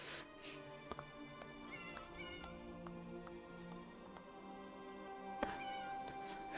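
Several cats meowing in the Morrowind area of Elder Scrolls Online, repeated rising mews over a steady game music bed, moderately loud and close, with no talk.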